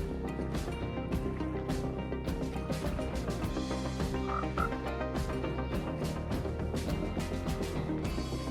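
Minecraft frog croaking over a steady ambient game soundscape, repeated low croaks at a regular rhythm with no talk.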